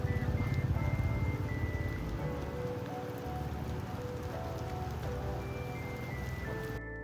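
Steady monsoon rain in Lonavala patters on a surface nearby, a constant hiss and drip that fills the clip with no voices.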